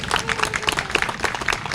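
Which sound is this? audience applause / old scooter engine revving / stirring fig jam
audience applause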